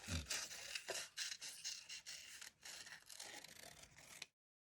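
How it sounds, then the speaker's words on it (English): Repeated crisp snips and scraping cuts through paper as scissors cut out a traced feather shape, close and fairly quiet, in an irregular rhythm with no talking. "I'm just using my pencil to trace around it and then cutting it out"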